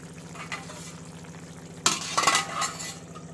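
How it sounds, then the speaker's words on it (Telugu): Potato, tomato and brinjal curry stirred with a spoon in a pan on the stove, soft sizzling underneath and a burst of scraping, clinking strokes partway through, close and fairly quiet. "తిప్పేయండి అదంతా."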